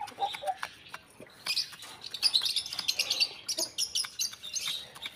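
Aseel chickens, a hen and a rooster, pecking and calling nearby with short chirpy clucks and scratchy rustling, irregular and moderately loud, with no voices.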